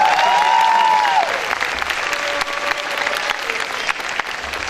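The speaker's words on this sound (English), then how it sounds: "Will you give yourselves a round of applause for your part?" A spring 2015 graduating class applauds at a commencement ceremony, with steady clapping from a large crowd that is loudest at the start and holds at an even level throughout.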